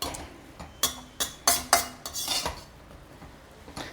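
A spatula clanks and scrapes against a pan while rava kesari is stirred, several sharp metallic knocks in an uneven rhythm, close and clear, followed by softer scraping.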